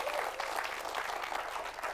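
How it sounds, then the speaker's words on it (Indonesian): Studio audience bursts into steady, dense applause that fills the whole moment, a continuous wash of many hands clapping with no voices over it. "Tepuk tangan kawan-kawan sekalian,"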